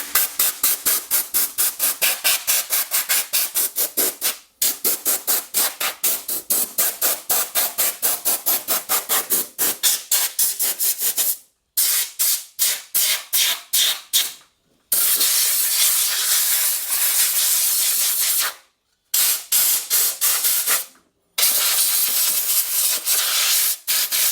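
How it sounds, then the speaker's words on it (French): Compressed air blasts dust out of a PC power supply: rapid rows of loud, short hissing puffs are broken by brief pauses, then give way to longer sustained sprays, all close up. "On souffle l'alimentation."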